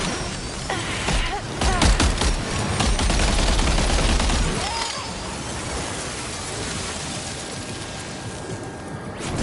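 Gunfire erupts in Death Stranding 2, a dense burst of rapid shots and cracking impacts over the first few seconds, then tapering into a noisy hiss of ambient battle sound.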